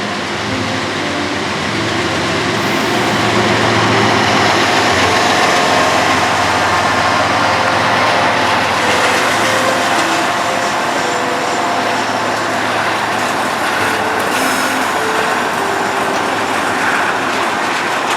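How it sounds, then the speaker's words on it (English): An intermodal freight train led by two six-axle GE locomotives rumbles past loud and near, engine drone and rolling wagons sustained steadily throughout with no voices. "Those moving containers are actually being led by two 6-axle GEs"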